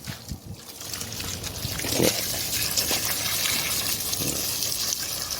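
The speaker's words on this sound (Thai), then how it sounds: "ใช้น้ำฉีดล้าง" A water hose sprays to rinse soil off the roots of a large desert rose plant being repotted, a steady hissing gush with a few splashy surges, close by and without talk.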